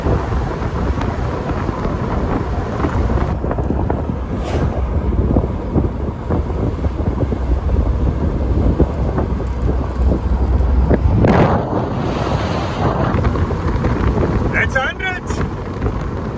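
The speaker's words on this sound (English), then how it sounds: "sun from the side, air blowing wildly in the wind" Heavy wind buffeting and roaring past an open-top Mercedes SLK convertible on the move, a steady loud rush with gusty surges throughout and a brief louder swell near the end.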